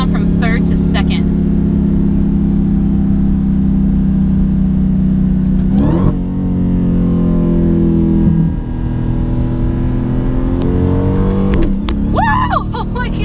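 A 2019 Dodge Challenger Hellcat Redeye's supercharged engine roars steadily from inside the cabin, with a sharp jolt as it downshifts from third to second, the revs climbing afterward under a person's talk.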